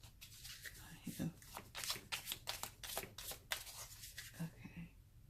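Oracle cards are shuffled by hand in quick, repeated riffling bursts, close and crisp, with brief soft pauses between passes.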